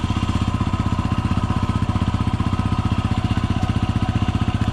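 A motorcycle engine runs steadily at night, a loud, close, even pulsing drone with a fast regular beat and no pauses, heard alone without talk.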